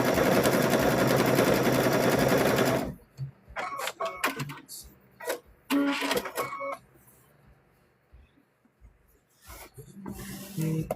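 A sewing machine runs over a raw fabric edge on a mug rug, first in a loud continuous burst, then in short stop-start stitching runs separated by quiet gaps.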